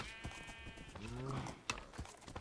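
Minecraft horse being ridden and fed, with soft game animal noises, a brief whinny-like tonal call near the middle and light hoof-like taps, under a player's near continuous talking.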